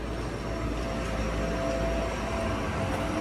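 Steady rumble of a DLR light rail train in motion in the UK, with a faint continuous whine running over the low noise.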